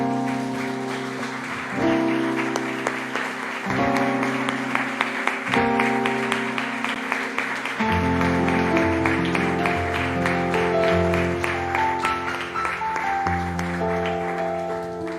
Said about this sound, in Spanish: Le damos un aplauso al Señor, hermanos.